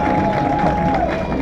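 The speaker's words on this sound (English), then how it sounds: "one last round of applause for everyone before they break all the cars" Audience at an endurance car race clapping and cheering before the parade lap, a loud dense wash of applause with crowd voices mixed in throughout.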